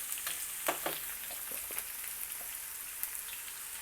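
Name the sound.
chopped onions frying in pan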